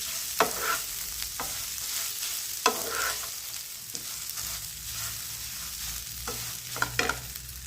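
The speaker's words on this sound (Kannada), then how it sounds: "ಕೊಬ್ಬರಿ ಹಾಕಿದ್ಮೇಲೆ ಸ್ವಲ್ಪ ಹೊತ್ತು ಫ್ರೈ ಮಾಡಬೇಕು" A spoon stirs grated coconut frying in a pan for temple-style pumpkin sambar: soft sizzling under a series of sharp scraping clicks, close and steady.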